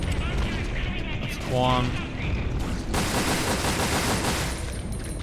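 Gunfire in Resident Evil: Dead Aim on PS2, a run of dense repeated shots with a heavier Magnum-type report, loud and close, with someone talking over it near the start.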